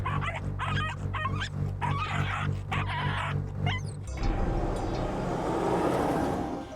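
Several stray dogs bark and yelp close by in quick bursts for a few seconds, then give way to a low rumbling background.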